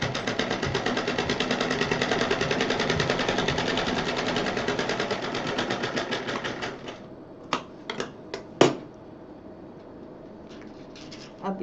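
Sewing machine stitching a purse zip, a dense rapid whirring chatter running steadily for about seven seconds, then stopping and giving way to a few short isolated clicks and taps, close and moderately loud.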